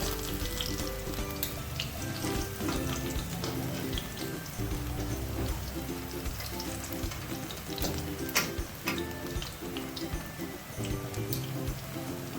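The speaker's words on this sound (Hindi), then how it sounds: "पकौड़े हमारे फ्राई हो चुके हैं।" Mixed vegetable pakoras deep-fry in hot oil with a continuous close crackling sizzle, accompanied by steady background music.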